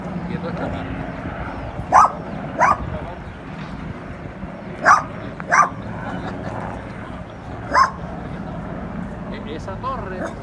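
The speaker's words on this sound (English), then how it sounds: "Big bad dog." A dog barks in short, sharp bursts, about five separate barks spread across the stretch, heard outdoors in hurricane-hit Las Marias, Puerto Rico, with people talking steadily underneath.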